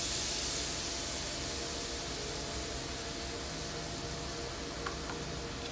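Ribeye steak with a coffee rub laid on a hot vented grill at a state fair demo, giving a steady loud hiss of sizzling that carries through the whole stretch, with a few faint clicks near the end.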